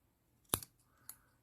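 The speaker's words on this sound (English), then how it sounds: "the cotton might have been a bit long, so I cut it now, put the scissors on this ring here" Small scissors snip a cotton wick for a Hellvape MD RTA vape coil, one sharp close click-cut followed by a fainter second snip, quiet and isolated.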